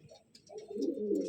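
A male Madrasi pigeon coos nearby in a low, swelling burr that grows louder toward the end, with no one speaking over it.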